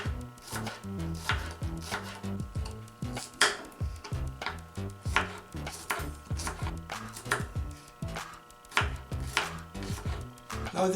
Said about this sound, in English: Now I will slice 3 cloves of garlic.